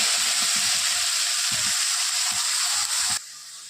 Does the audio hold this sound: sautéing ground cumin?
yes